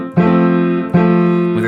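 A piano chord struck with a collapsed hand in a Kabalevsky Little Dance lesson rings out loud and close, hit twice in succession and then again, each sustaining evenly without talking.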